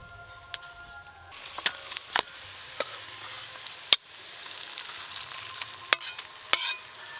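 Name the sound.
bhetki fish oil frying in a wok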